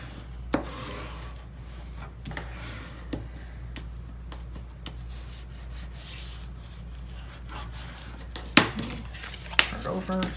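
Glued paper being burnished inside a handmade mini album, heard as soft, steady rubbing and scraping close by, with a few sharp taps and clatters and a low hum underneath.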